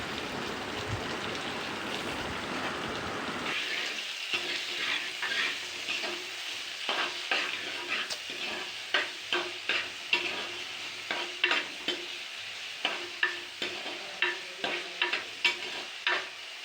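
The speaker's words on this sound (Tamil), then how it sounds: "தக்காளி வெங்காயம் போட்டு நல்லா வதக்கணும்." Tomato and onion with salt are sautéed in a pan, a soft continuous sizzle broken by a regular run of close scraping strokes from the spoon that grow more distinct toward the end.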